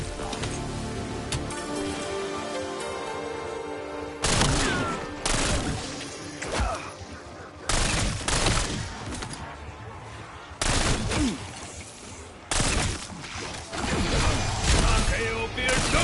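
Heavy shotgun blasts in Black Ops 7 Zombies on the Totenreich map, several loud bursts arriving in irregular clusters over layered game music and effects, with a narrator's voice running through the mix.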